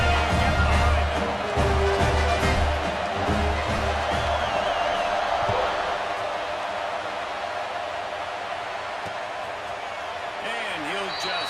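A stadium crowd roaring in College Football 26, a broad steady wash of cheering that swells early and then settles into a constant hum, with a commentator talking over it.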